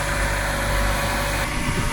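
A rusty Mazda Miata engine idles steadily with a smooth, even hum and low rumble, continuous and close, with no revving or sputtering.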